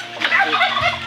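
A turkey gobbles once in a short, rapid, warbling burst, close and fairly clear, with no other sound around it.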